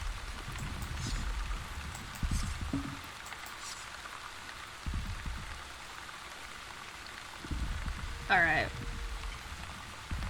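Rain falls steadily in the video game The Wandering Village, a soft continuous patter under a talking voice, with a brief chirping sound near the end.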